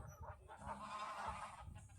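Geese call noisily and territorially in a park, their honks and clucks overlapping in close, uneven bursts over faint background noise.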